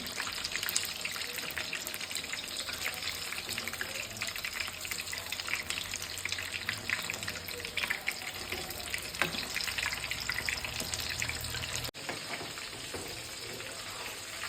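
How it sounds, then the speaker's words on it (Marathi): Chicken lollipops deep frying in oil, a dense continuous bubbling hiss that holds steady and close for the whole stretch, with no talk over it. "चांगल्या दोन्ही साईडने आपल्याला त्याला आता डीप फ्राय करून घ्यायचं आहे"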